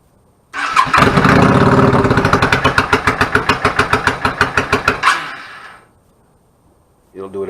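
A 1999 Yamaha VStar 650 Classic motorcycle with a clogged pilot jet cranks and catches with the choke pulled fully out, running in loud, rough, pulsing firing beats for about four seconds before cutting off abruptly.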